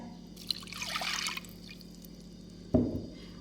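Orange juice poured onto orange zest in a kitchen, a soft trickling splash followed by a brief close liquid pour, quiet and heard on its own.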